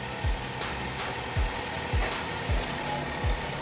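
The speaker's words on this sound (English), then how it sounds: "that's the idle because it cooled off then" A Ford Focus engine idling after starting, with a steady mid-range hum and faint periodic low thumps recurring about every second.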